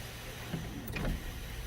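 The sunroof motor of a 2009 Scion tC hums briefly as the glass panel closes, a soft mechanical whir heard close up inside the quiet car.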